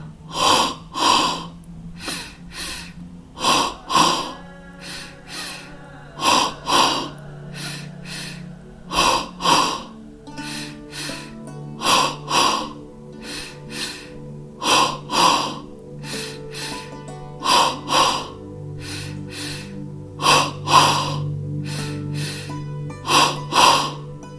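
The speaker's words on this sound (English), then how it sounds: "begin double breathing with the exhale" Rhythmic yoga double breathing fills the stretch: paired forceful exhales, each a quick double puff, repeat steadily about every second and a half, close and loud with no talk.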